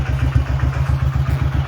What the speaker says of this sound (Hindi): बाइक स्टार्ट रहने दो